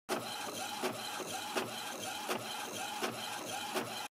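Classroom printer running a print job sent from a phone app, a steady mechanical whir with rhythmic clicks and paper-feed thumps repeating roughly every three quarters of a second, close and alone.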